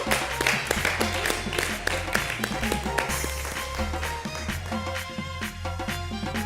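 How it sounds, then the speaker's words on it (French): Applause from an audience at a televised cooking competition, quick clapping over a steady low hum and background music, with voices mixed in. "On l'applaudit très très fort."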